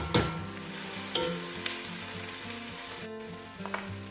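Onions for French onion soup frying slowly in a pan, a steady close sizzle with occasional soft stirring scrapes and utensil knocks, no voices.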